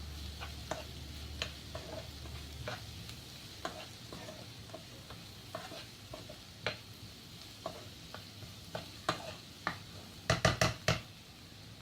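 A spoon stirs spices and salt together in a pan on the stove, scraping and clicking against the metal in repeated strokes under a faint sizzle, ending with a quick burst of clatters.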